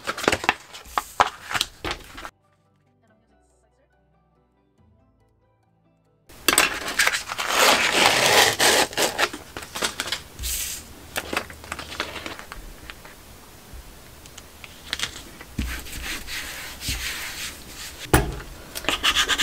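Transfer tape rubbed down firmly onto a glass surface, giving close scraping, squeaking friction in busy strokes, with a silent gap early on and then steadier rubbing.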